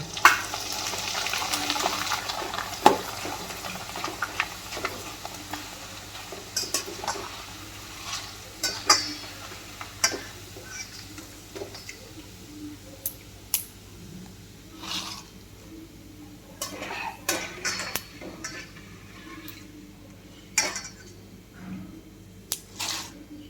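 Corn flakes (makai poha) frying in oil in a pan at home for chevdo, a soft continuous sizzle with scattered scraping and clinking of a stirring spoon, fairly close and moderately quiet.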